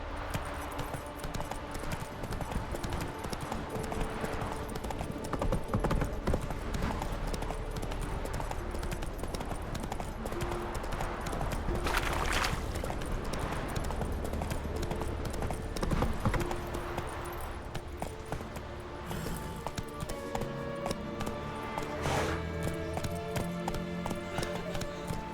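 Roach the horse galloping in The Witcher video game, a long run of rhythmic hoofbeats that carries on steadily at a moderate level with game ambience and an occasional voice behind.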